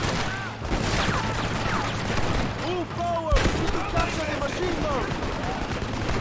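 Rapid machine gun fire in a Red Dead Redemption shootout, dense bursts with a sharp crack midway, heard under overlapping voices and background clatter.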